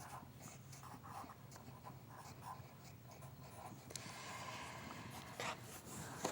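A pen drawing on paper, steady faint scratching and scribbling strokes as the inside of a dragon's body is filled in, quiet and close with no talk.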